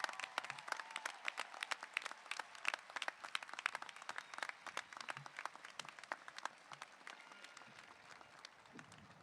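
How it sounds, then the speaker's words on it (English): Audience at a high school graduation ceremony applauding veterans, a dense, steady wash of many hands clapping that carries on evenly, heard from within the crowd. "We all owe you a round of applause as well."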